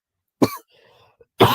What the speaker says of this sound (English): a post viral cough is insane.